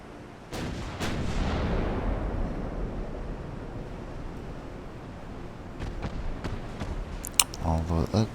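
Naval turret guns firing in Ultimate Admiral: Dreadnoughts, a French campaign battle at sea: a few sharp booms, then a long rumbling roar and more cracks of shots near the end, loud and close.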